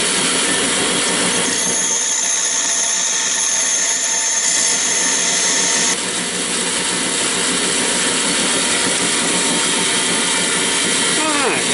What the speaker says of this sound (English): on the big grinder, I'm going to go ahead and bevel all of our edges out real nice